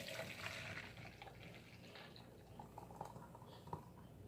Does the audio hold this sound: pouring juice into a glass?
yes